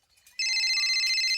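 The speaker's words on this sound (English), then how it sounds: "His phone buzzes." An incoming call on a mobile phone, given as buzzing, sounds as a steady, loud electronic ringing tone that starts abruptly and holds on alone, close by, with faint clattering just before.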